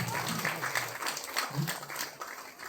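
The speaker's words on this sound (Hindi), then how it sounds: "आप सभी लोग ताली से भी अभिनंदन स्वागत करेंगे।" An audience at an annual Kabir ashram event applauds to welcome a guest, a moderate clapping crowd with a voice talking over it and some bustle in the room.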